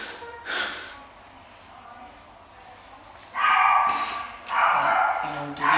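A dog at the vet snorts, breathes heavily and gives a few short whimpering yips, close and fairly loud, with a person speaking quietly in between.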